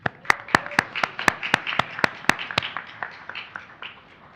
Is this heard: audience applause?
yes